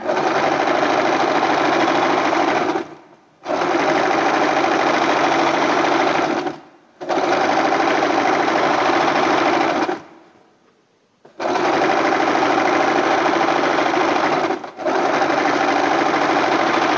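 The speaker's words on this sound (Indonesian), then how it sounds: "Ujungnya kita kunci terlebih dahulu jahitannya." An electric sewing machine locks the end of a seam on a garment edge, running loud and steady in four long bursts of rapid stitching with short silent pauses between them.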